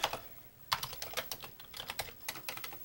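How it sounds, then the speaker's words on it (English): Someone types on a computer keyboard used to set up a Commodore 1541 disk drive, with irregular bursts of close, clicky keystrokes and short pauses between them, and no talking. "I don't like the keyboard on this computer."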